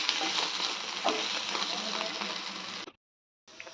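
Paneer frying in a pan with a steady, close sizzle and occasional stirring clatter for nearly three seconds, then a cut to brief silence before the frying sound returns.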